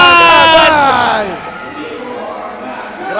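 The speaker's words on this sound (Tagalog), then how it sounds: "very entertaining and very wild ang crowd natin ngayon sa ating Goa" At a basketball game at Goa Sports Complex, a home crowd roars and cheers with high shouts and whoops. The noise is loudest at first and then settles into a lower hubbub.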